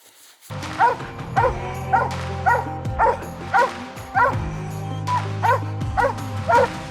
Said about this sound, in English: I'll go to Jax here in a second once he's good and treed.